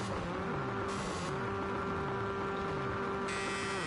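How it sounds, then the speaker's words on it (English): Race car engines rev and drone at the start line in the racing game Rally Fighters, a steady layered engine hum with rising and falling pitch sweeps. "Engines are revving."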